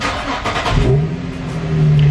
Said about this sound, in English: Go ahead and start up the car.